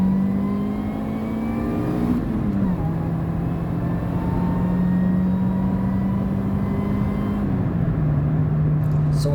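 Supercharged Honda CRX VTEC engine holds a loud steady drone under driving load, with two gear shifts dropping the pitch, heard from inside the car.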